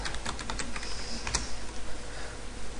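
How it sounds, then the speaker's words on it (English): Typing on a computer keyboard, a steady run of light, quick key clicks at close range with one sharper tap partway through, alone without voices. "It doesn't seem to want to work, so I'm just going to type it in"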